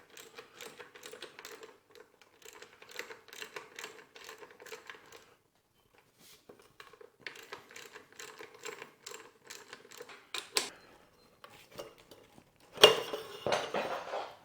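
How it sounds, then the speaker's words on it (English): Metal clinks and scrapes as a Royal Enfield Bullet 500 front fork is unscrewed from the top of a rusty fork leg, coming in short rattling bursts with pauses and a louder clatter near the end. "You're unscrewing this from the top of the fork leg now."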